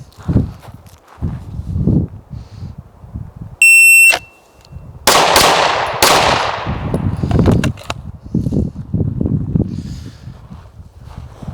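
Pistol shots from a Smith & Wesson M&P 2.0 on a range during a 10-yard qualification drill: a quick string of sharp, loud reports near the middle, with an electronic beep just before them, and faint handling and movement noise around them.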